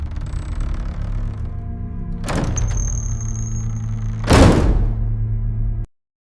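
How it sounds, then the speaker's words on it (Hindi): A door swings shut on its own, landing with two heavy thuds a couple of seconds apart over a low droning background before everything cuts to silence. "दरवाजा खुद ब खुद बंद हो गया।"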